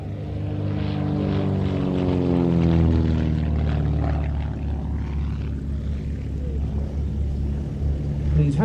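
A light display aircraft flies overhead, its propeller engine droning loudly and continuously with a steady tone that slowly shifts in pitch as it passes.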